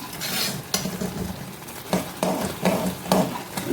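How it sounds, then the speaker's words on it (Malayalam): Crisp fried garlic stirred into chili for a Kerala-style garlic pickle, sizzling in oil with a spoon scraping the pan in several rhythmic strokes, close up and without speech. "മുളകിൻ്റെ പച്ചമണമൊക്കെ പോയി നമ്മൾ വറുത്ത് വെച്ചേക്കുന്ന വെളുത്തുള്ളി ഇടുകയാണ് ഇപ്പം"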